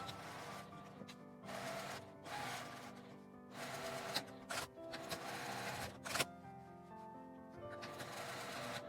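A home sewing machine stitches the seams of a fabric face mask in quick rhythmic bursts with short pauses between runs. The mechanical whirring is close and fairly quiet, with no talk over it.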